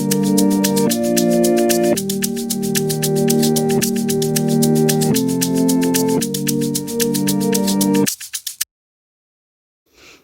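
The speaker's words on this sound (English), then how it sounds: "just to give me that reverse kind of effect" Reversed Afro beat instruments and synth from FL Studio: sustained chord blocks shifting every second or so, overlaid by steady rhythmic pulses, loud and continuous before cutting off abruptly into silence after about eight seconds.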